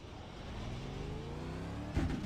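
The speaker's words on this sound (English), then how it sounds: "And he's doing some burnouts." A V8 race car in the iRacing sim game revs steadily through a burnout at Road America, its engine note rising smoothly and ending in a louder burst near the end, with no talking.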